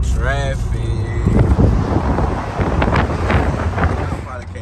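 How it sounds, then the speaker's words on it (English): Road traffic heard from inside a moving car, with steady engine and road rumble and strong wind buffeting on the microphone. Other vehicles pass nearby, and a voice talks over the noise. "We are in some traffic."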